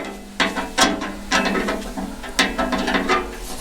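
A ratchet wrench clicks in short bursts while tightening parts in a workshop, several quick runs of pawl clicking separated by brief pauses, close and fairly loud with no talk.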